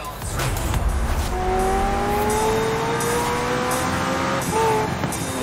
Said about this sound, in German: Wir fahren schnelle Autos.